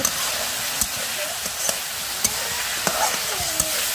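Noodles sizzling in a pan in a home kitchen, a steady broadband frying hiss with a few soft clicks and stirring knocks spread through it.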